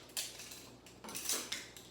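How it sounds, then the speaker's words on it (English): A measuring spoon stirs cinnamon sugar in a bowl, giving a few close scraping and clinking strokes against the bowl in uneven bursts, with no voices. "I'm just going to use that measuring spoon to mix that all up in the bowl"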